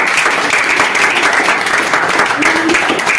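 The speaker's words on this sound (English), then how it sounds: "A round of applause for all those students." Steady, loud applause for students at a National Science Day school event, continuous dense clapping from a crowd with faint voices underneath.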